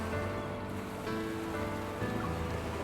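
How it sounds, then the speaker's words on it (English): Steady, dense rain hisses over a surface, a continuous wash of noise with a low rumble underneath, fairly faint and unbroken. "The downpour starts."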